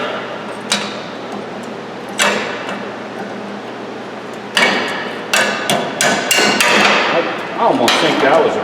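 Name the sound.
hammering out old tie rod stud on Ford Explorer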